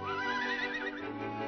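A horse whinnies once, a high shaky neigh that wavers and trails down over a second or so, close and clear.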